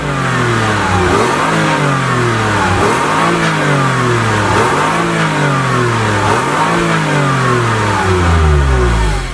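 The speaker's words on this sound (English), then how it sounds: "I am confident this single exhaust with new dual tips sounds way better than the hybrid" An all-wheel-drive Toyota Highlander engine revving hard through a single exhaust with dual tips, climbing in four repeated surges that each drop back before rising again, loud and close with no talk.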